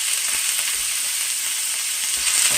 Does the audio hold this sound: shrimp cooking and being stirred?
yes